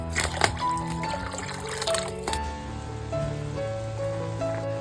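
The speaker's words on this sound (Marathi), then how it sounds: "थोडासा पाणी जास्तच घालतोय" Water is poured into a simmering oyster gravy with cashews: a close, soft liquid splash and trickle over a bubbling pan, fairly steady throughout.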